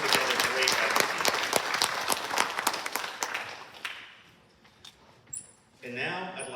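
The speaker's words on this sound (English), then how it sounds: "So one last hand of applause for all the parents, all guests, and our staff members." A room of parents, guests and staff at a Charter College Lancaster graduation ceremony claps in sustained applause, which gradually thins into scattered claps and fades out before a voice begins to speak.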